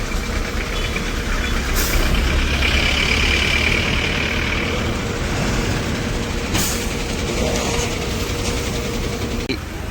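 A truck on its way to the harbour drives along with a loud, steady engine drone and road rumble heard from close by, with a couple of brief sharp clanks and no let-up throughout.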